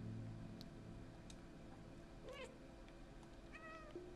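A cat meows several times in the video game Stray, short separate cries over a quiet low ambient hum, fairly close and soft.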